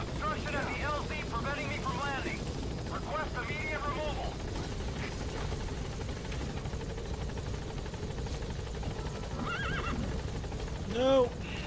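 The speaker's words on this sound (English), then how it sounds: "Horse!" A horse in the video game Metal Gear Solid V: The Phantom Pain whinnies in several shrill, wavering bursts near the start and again toward the end, over a steady helicopter rotor drone.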